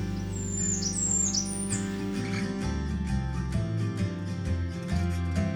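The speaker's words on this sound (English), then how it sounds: "the males will perch, repeatedly belting out their high-pitched song" A male Blackburnian warbler sings a few thin, very high-pitched rising-and-falling phrases, clustered near the start, over a steady musical background.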